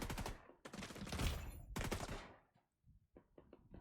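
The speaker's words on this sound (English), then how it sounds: "I feel like I'm being shot from absolutely everywhere" Gunfire in The Division 2 video game: long bursts of rapid automatic fire, loud and close, then a brief lull and a few scattered single shots.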